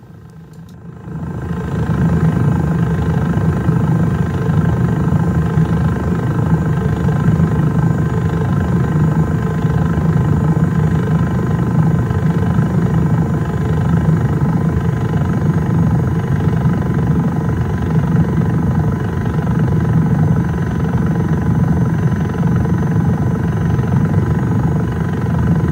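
A jet gyro aircraft drones through steady cruise on its way between KMCE and San Luis Obispo, its engine thrust a loud, unbroken low roar heard from on board that holds constant for the whole stretch.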